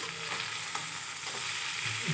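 Steady sizzling and crackling of chicken frying in a lidded pan, even and continuous at moderate volume, with no voices.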